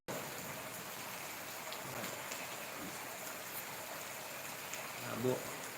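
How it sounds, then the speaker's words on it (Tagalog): Steady rain falling outdoors, a continuous fairly faint hiss of drops with no voices, holding evenly for several seconds. "Silong na kay uwan man."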